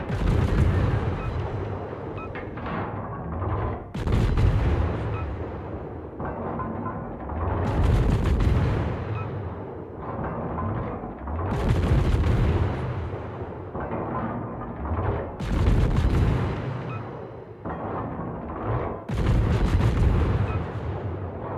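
World of Warships naval guns fire AP shells in heavy, booming salvos, each a loud deep blast with a rolling tail, repeating every few seconds with almost no talk.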